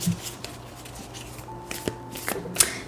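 Tarot cards are shuffled by hand, a brisk riffling and flicking close up, with scattered taps and a sharp snap near the end.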